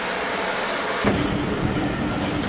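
A heritage steam train running on the Severn Valley Railway, heard from on board as a steady, dense rolling rumble that shifts abruptly in tone partway through.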